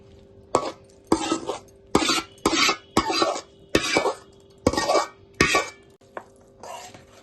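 Tamarind pulp is mixed by hand into cooked, cooled rice for pulihora, giving a series of separate squishy, scraping bursts against a vessel at an uneven pace. A faint low hum runs underneath.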